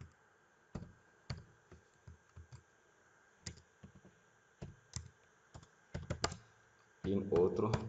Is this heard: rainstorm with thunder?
no